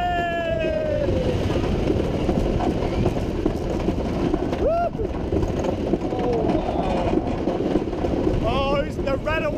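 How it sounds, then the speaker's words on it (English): Trains on a PortAventura amusement park ride pass one another amid a loud, continuous crowd din and rumbling, with squealing wheel tones and shrieking riders over the noise. "Ready for the great interaction with the other train now."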